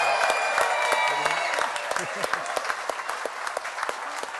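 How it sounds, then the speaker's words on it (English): Audience clapping at a chef cooking competition during an oyster festival, steady applause that thins out toward the end, moderately close. "give a big round of applause for our winners this evening, Nick and Lynn."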